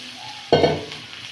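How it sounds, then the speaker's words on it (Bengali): Spice paste with cauliflower and potatoes hits a hot pan, a sudden loud burst of sizzling that then fades into a quieter, steady fry, close by and without speech. "মশলা ফুলকপি আলুটা একসঙ্গে দিয়ে দেবো, দিয়ে দুটো একসঙ্গে ভালো করে কষিয়ে নেব"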